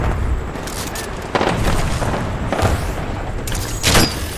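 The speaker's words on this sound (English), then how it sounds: "My own grenade." A grenade explosion in Titanfall 2 during an Attrition match on the Boomtown map: heavy booming blasts and thuds in quick succession over constant battle noise, loud and close, with no voices.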